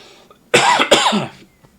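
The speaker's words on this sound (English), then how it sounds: "Oh, that cough came out of nowhere." Two quick, harsh coughs in close succession, loud and near, with a short gap between bursts and no talking.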